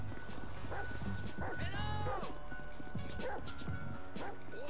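Chop the dog barks in Grand Theft Auto V, several sharp, close barks and yips spread across an excited chase, with a faint whine between them, over busy game noise and a background voice.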